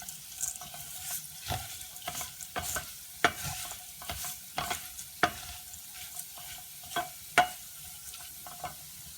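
Rice for chickpea pilaf toasts in a pan while a utensil scrapes and stirs it in distinct, irregular strokes over a light sizzle, close and clear.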